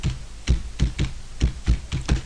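About eight separate keystrokes sound on a computer keyboard at an uneven pace as a word is typed. The taps are close and crisp, with no voice over them.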